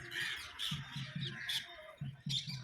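Birds around a house with a small garden, parrots among them, give repeated harsh squawking calls in quick bursts, close and fairly loud against a quiet morning background.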